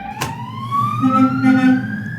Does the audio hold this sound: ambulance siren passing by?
yes